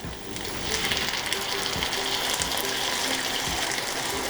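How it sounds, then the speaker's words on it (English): Sauce hits a hot frying pan of Korean spicy chicken with a loud, continuous hissing sizzle that holds steady for several seconds. "Okay, let's add the sauce"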